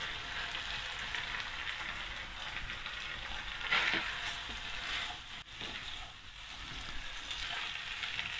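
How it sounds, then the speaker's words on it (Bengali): Beef sizzling in a pan over low heat while being stirred, a steady soft crackle that carries on through the clip with a brief stronger burst of sizzle partway in, no voices. "লো হিটে বিফ সিজলিংটাকে প্রায় 4-5 মিনিট মতো নেড়ে চেড়ে রান্না করে নিলাম"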